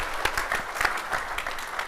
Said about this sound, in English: A little round of applause for them real quick.